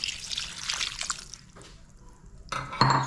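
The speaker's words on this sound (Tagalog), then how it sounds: "Lagyan po natin siya guys ng tubig." Water trickles and splashes into a pan of sautéed noodles and cabbage in a brief pour, starting and stopping with a gurgling, bright spatter at the end.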